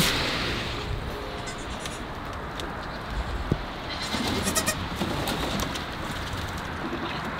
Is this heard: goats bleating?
yes